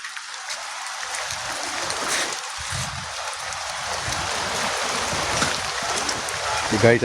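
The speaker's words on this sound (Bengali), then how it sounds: "এই যে বৃষ্টি দেখছেন, বৃষ্টি একভাবে হয়ে যাচ্ছে।" Steady rain falls around a house, a dense, even hiss of drops lasting throughout with no letup, close and fairly loud.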